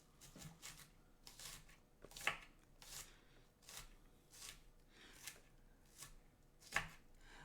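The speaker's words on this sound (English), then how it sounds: "I'm cutting onions." A knife cuts onions on a board in a run of quiet, evenly spaced slicing strokes with a couple of sharper knocks, faint and close, and no one talks.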